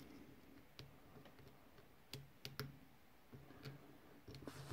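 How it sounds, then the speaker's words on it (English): Faint, sparse metallic ticks and clicks from picking an American 1100 padlock, arriving irregularly, some in quick pairs, very close and quiet over a low background hiss. "Four, five little clicks."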